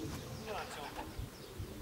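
Racing pigeons arriving at a loft in Wejherowo, soft cooing and fluttering close by, with people talking over the birds throughout.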